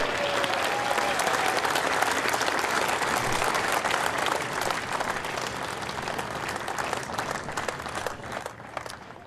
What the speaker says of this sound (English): keep your applause going